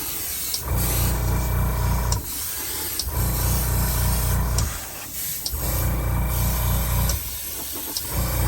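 Spray painting a Star Wars Death Star silo tower studio scale model, an airbrush-style compressor hum running steadily in bursts of a few seconds with short pauses between, close and fairly loud.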